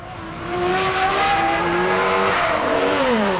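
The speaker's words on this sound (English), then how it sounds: "zooming out to the cars shooting along the track" Formula 1 race cars roar past on a track, their high-pitched engine notes rising and then dropping as they sweep by, with a loud continuous whine throughout and the pitch falling sharply at the end.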